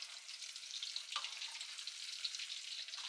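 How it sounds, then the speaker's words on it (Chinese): Pork ribs deep-frying in hot oil for sweet and sour pork give a steady, close, bright sizzle that crackles evenly throughout, with no talking. "将所有的排骨轻轻的放入油中"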